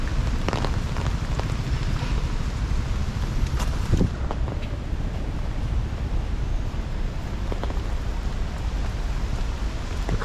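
Evening rain falls on a street near Trianon Park in São Paulo, a steady, dense hiss with a windy rumble underneath and a few faint splashes or thumps, continuous throughout.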